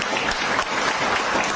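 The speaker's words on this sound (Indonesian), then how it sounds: "Tepuk tangan." A church congregation breaks into brief applause, a dense, even patter of many hands clapping at moderate loudness without pause.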